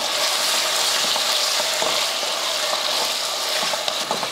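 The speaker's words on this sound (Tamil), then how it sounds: "உருளைக்கிழங்கு போட்டு வதக்கியாச்சு." Peeled, cut potatoes sauté in hot oil in a pan for kurma, a steady, close sizzle and fry hiss running the whole time with a few soft stirring scrapes.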